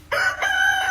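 A rooster crows right beside the listener's ear in the morning, one loud close cock-a-doodle-doo with a sharp onset and a sustained, slightly wavering tail, and no talking.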